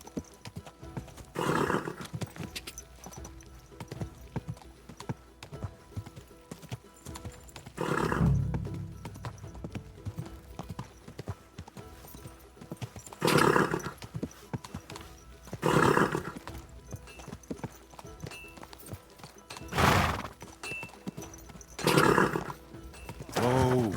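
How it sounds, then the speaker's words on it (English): Horse hooves clop steadily with a few loud whinnies and snorts breaking through at intervals, set against a quiet background of low ambience, in the video game Kingdom Come: Deliverance II. "Easy. Good horse."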